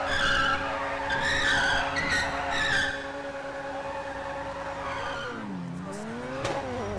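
A 2017 Ferrari Alperta in the video game GTA skids hard, tyres squealing loudly for about three seconds, then a quieter engine hum and a second shorter screech near the end.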